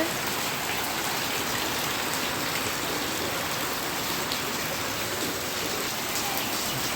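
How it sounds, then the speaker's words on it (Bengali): Heavy torrential monsoon rain pours down in the evening outside a home garden, a dense, steady hiss of drops hammering surfaces, loud and unbroken throughout. "এই তো একদম মুসলধারে বৃষ্টি হচ্ছে"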